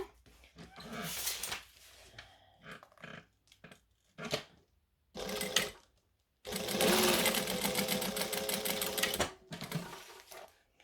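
A sewing machine stitches vinyl at a long top-stitch length in bursts, with short runs and then one sustained whirring run, close and clear, broken by pauses and handling clicks.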